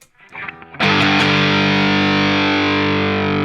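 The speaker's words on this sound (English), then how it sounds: "And then if we could turn the Rat on." Electric guitar played through a ProCo Rat 2 distortion pedal into a low-wattage Marshall Plexi-style amp: a few quieter notes, then a loud, thick distorted chord strikes and sustains steadily, close and alone.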